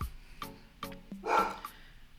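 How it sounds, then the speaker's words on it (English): A dog somewhere in a rental house barks a few sharp yips with short whimpers between them. The sound is moderately close and stands mostly alone. "Excuse my dog in the background."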